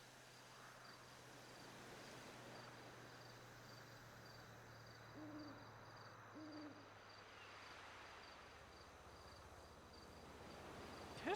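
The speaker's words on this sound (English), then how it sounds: "I thought I heard an owl hooting." An owl hoots a few times in the GTA V game world at night, two soft, low calls in the middle, distant and faint beneath a constant wash of crickets and insect noise.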